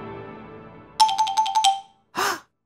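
Xylophone in a children's song, a quick run of about six bright, evenly spaced struck notes on the same pitch, then a short pause and one softer sound, fairly loud and with no voices over it.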